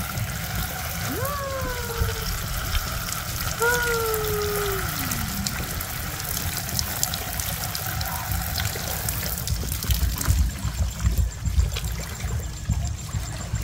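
Water running from a newly installed outdoor shower at a seaside hut, a steady close splashing hiss with a couple of sliding whistle-like tones early on.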